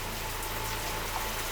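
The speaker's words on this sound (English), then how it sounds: "With high pressure, water is coming out." Water gushes at high pressure from leaking plumbing near a pump in an abandoned hair salon, a steady, dense broadband rush that holds constant throughout, close and unbroken, with no voices.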